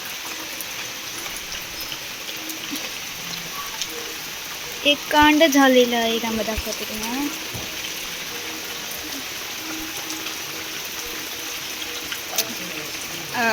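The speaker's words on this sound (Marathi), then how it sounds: "मोठ्यानं पाऊस आलेला आहे" Steady hiss of rain falling throughout, with someone talking briefly over it in the middle.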